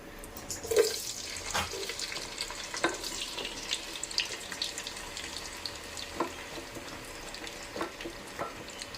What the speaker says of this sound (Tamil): இப்போ வந்து எண்ணெய் வந்து காஞ்சிருச்சு இந்த டயத்தில் நான் வந்து இந்த வெட்டி வச்சிருக்கல தக்காளி இதை போடுறேன்